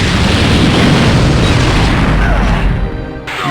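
In Naruto Shippuden: Ultimate Ninja Impact, the Amaterasu jutsu erupts as a loud, sustained roaring blast of black flame that fills the whole moment before easing slightly near the end.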